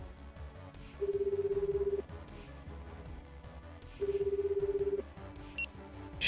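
Phone ringback tones in the DRAMAtical Murder video game: two steady one-second beeps about three seconds apart over soft background music, then a brief electronic blip.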